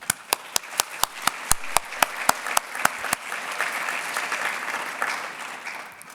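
Audience applause at a 2023 College of Medicine and graduate school awards ceremony, opening with a few loud, distinct claps that quickly swell into steady, sustained clapping from a large crowd.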